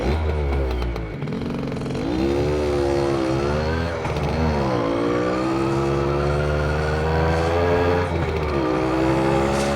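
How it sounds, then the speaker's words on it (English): A late-1970s two-stroke moped engine from an island ridden up close, its exhaust buzzing and rising and falling in pitch as the throttle opens and eases, loud and continuous. "the engines sound really nice"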